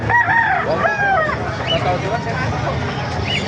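Hens and roosters cluck and call at a poultry market in Calumpit, with rising squawking notes over a busy crowd murmur. Voices are heard talking beneath the birds throughout.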